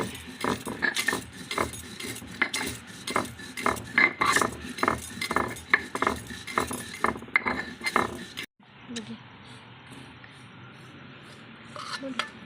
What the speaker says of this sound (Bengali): পাপড়ি চাটের মশলাটা গুঁড়ো করে নেবো